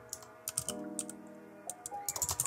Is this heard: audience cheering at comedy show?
no